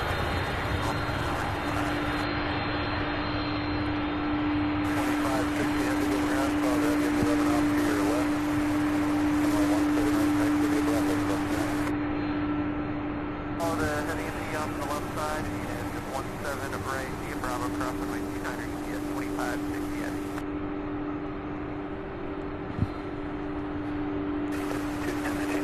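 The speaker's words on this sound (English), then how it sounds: "So two MD-11s in taxi now, another one pushed back, plus the 747 Queen heading to Ontario, California." MD-11 jets taxiing at Louisville International Airport produce a constant loud engine whine and drone with a steady tonal hum throughout, over which a voice speaks intermittently.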